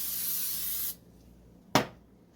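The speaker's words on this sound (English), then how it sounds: "And they said to spray the top." A hissing burst of aerosol cooking spray onto a tortilla lasts about a second, then stops, followed by one short, sharp spritz.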